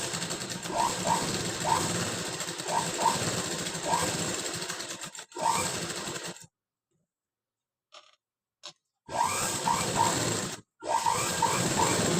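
An electric sewing machine stitches a patch onto the back of a blouse with a quarter-inch margin, running in steady rhythmic bursts with a few brief pauses between runs.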